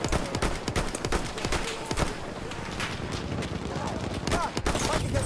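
Rapid gunfire from an M1907 rifle in a World War I-style multiplayer video game battle, loud dense bursts and overlapping shots from several weapons continuing throughout, with players talking over the fighting.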